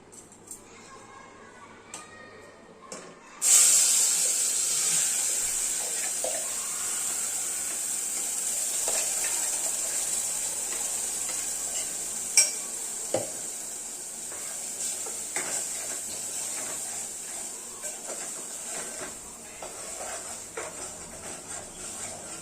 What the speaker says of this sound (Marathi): इथे आपलं तेल गरम झालेलं आहे आता यामध्ये मी वाटण घालते